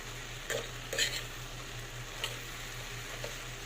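Two eggs frying with chicken noodles in a pan for breakfast, a steady low sizzle running under a few sharp utensil clinks and stirring scrapes, close and fairly quiet, with no talk.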